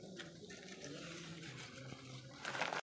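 Chopped onion and fish sizzle quietly in hot oil in a pan, a faint, steady hiss with soft bubbling that cuts off abruptly at the end.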